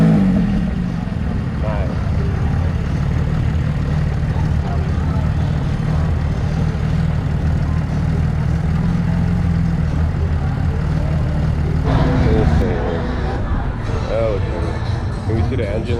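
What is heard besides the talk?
Porsche GT3 engine starting and idling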